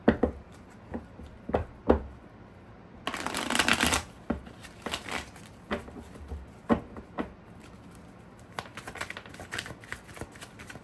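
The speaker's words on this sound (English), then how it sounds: "Oh, I love shuffling these cards." Rider-Waite tarot cards are shuffled up close: sharp flicks and taps, then a long riffling burst, followed by more scattered snaps and another quick riffle.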